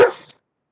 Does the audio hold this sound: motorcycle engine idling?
no